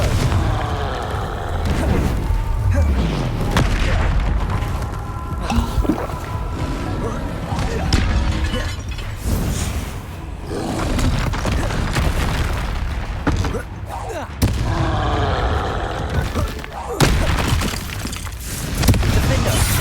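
Repeated Confringo fire-spell blasts boom and crackle in the Hogwarts Legacy game, dense explosive bursts with shattering debris running steadily throughout, mixed with a voice speaking.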